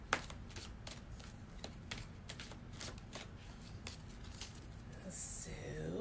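A deck of oracle cards being shuffled by hand, a run of quick, crisp riffling flutters close up, steady for several seconds with a slight rustle toward the end.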